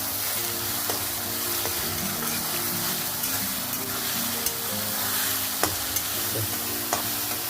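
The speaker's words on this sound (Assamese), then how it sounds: "লৰাই লৰাই অকণমান ভুজিবলৈ দিম আদা নহৰুখিনি।" Ginger garlic paste frying in a pan for a home-style chicken curry, a steady close sizzle with occasional scraping stirs throughout and no talk.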